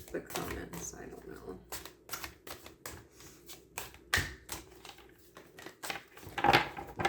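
Deck of oracle cards being shuffled in quick riffling bursts, a series of crisp clicks and flutters, close and fairly quiet, with a voice talking over parts of it.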